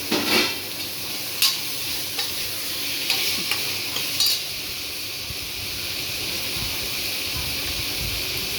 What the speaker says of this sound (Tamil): நல்லா வதங்கிடுச்சு தக்காளி பழம் ஒரு அஞ்சு தக்காளி பழம் போட்டுக்கலாம்